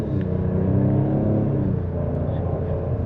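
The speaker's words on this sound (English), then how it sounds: "very nice sound as well from the exhaust, even though some of it's pumped in" A 2025 Ford Explorer ST RWD with a 3.0L turbo engine accelerating, heard from inside the cabin as a steady, close, low engine and exhaust drone with a rumbling undertone.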